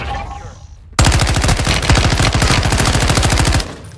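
Rapid automatic gunfire in the video game Warzone 2 rattles out in a loud, sustained burst of closely spaced shots lasting a few seconds, preceded by quieter game ambience.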